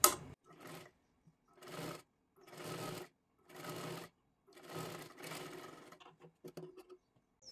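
A sewing machine stitches a princess-cut blouse in six or seven steady bursts of a few seconds each, separated by short pauses, then a few quick taps and handling noises, close and clear.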